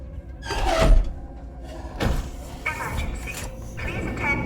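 A sliding door in the sci-fi horror video game Alien: Isolation opens with a mechanical hiss and a clunk, followed by further whooshing mechanical movements set against a low industrial ambient hum.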